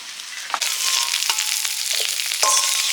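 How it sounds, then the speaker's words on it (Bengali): Cauliflower florets fry in a pan of hot oil with a continuous close sizzle, broken by a few light knocks and scrapes of a utensil stirring. "ডালের ফুলকপিগুলো ভাজা হয়ে গেছে নিয়ে নিচ্ছি"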